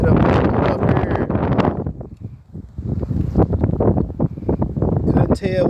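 Strong wind buffeting the microphone on open water during a fishing trip, a loud, gusty roar that rises and falls while people talk over it.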